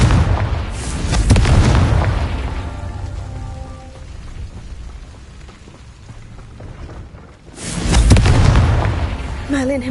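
Confringo fire spell blasts in the Hogwarts Legacy video game, two loud booming explosions with rumbling tails separated by a quieter stretch, a short musical chime at the end.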